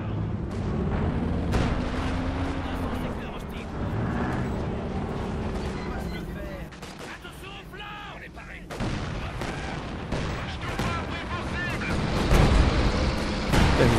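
Sustained wartime gunfire and artillery shelling from Company of Heroes 2, with repeated booms and crackling shots layered into a dense, continuous battle din, swelling louder near the end while a voice talks over it.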